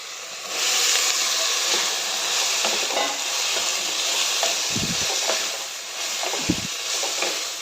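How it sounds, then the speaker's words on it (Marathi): Bitter gourd frying with onion and tomato in a pan, a broad steady sizzle and hiss with soft stirring scrapes and two dull low knocks of the utensil near the end, no voices. "आता ह्या मर मध्येच कारली घालून कारली भाजून परतून घेते चांगलं"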